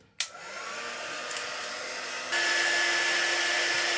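A hair dryer blows on wet paint on a mixed-media painting, a steady close whir that starts abruptly after a click and then shifts up to a louder, higher setting partway through.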